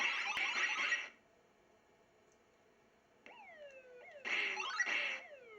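A Phoenix arcade board after repair plays its game sound effects: bursts of warbling electronic noise, a steady tone, then falling synthesized sweeps and another warble, clear and free of talk.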